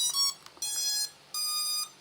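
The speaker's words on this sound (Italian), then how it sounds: "Solito rumorino cicalino da drone cinese, tanta nostalgia, ragazzi." Startup buzzer of a Chinese-made drone as it powers on: three loud electronic beeps, high and pure-toned, the first short and the next two longer, with brief silences between and no talking.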